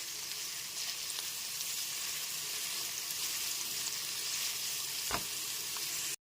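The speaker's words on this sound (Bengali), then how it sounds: "গ্যাসের ফ্লেমটা মিডিয়ামে রেখে পেঁয়াজ কুচিগুলো হালকা করে ভেজে নিয়েছি" Chopped onions fry lightly in a pan over a medium gas flame, giving a constant close crackling sizzle with a single faint utensil knock near the end before it cuts off.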